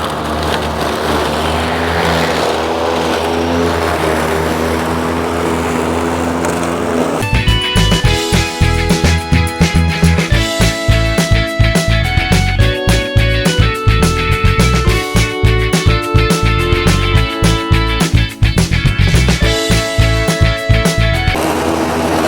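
A DeWalt DCMWSP156 2x18V cordless self-propelled lawn mower runs over grass outdoors, a steady close motor whir with a busy cutting texture that starts abruptly after a quieter stretch and continues loud and even.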